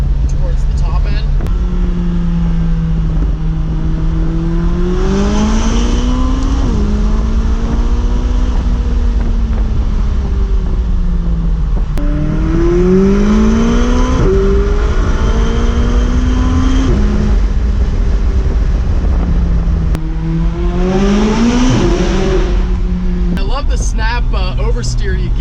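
McLaren 570GT sports car engine accelerating, with rising and falling tones through repeated gear pulls, steady and fairly loud under continuous cabin noise while people talk.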